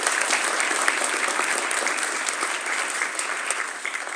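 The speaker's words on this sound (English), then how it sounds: "Give them a round of applause for that." Audience applause at a high school vocal concert, bright, dense clapping sustained evenly throughout with a few sharper individual claps standing out.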